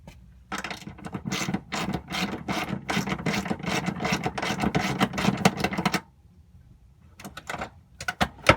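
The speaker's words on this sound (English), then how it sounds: "Let me pull the brake lever and see what happens." Emergency brake lever on a 2005 Ford Mustang being pulled up, giving a dense run of close ratcheting clicks for several seconds, then a pause and a few more sharp clicks.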